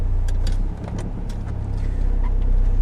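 A Mk2 VW Caddy SDI diesel van drives along, its engine and road rumble heard from inside as a steady low drone with faint rattles, loud and with no talk.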